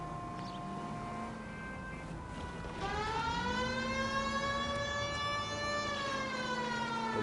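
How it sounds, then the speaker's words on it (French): A police car siren wails in the video game L.A. Noire, a steady tone that shifts into a rising and falling sweep and loops continuously over low engine rumble, with no speech. "j'ai activé les sirènes, j'ai trouvé la touche."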